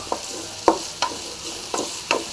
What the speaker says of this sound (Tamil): நல்லா ஃப்ரை ஆகட்டும் இந்த அளவுக்கு ஃப்ரை ஆனால் போதுங்க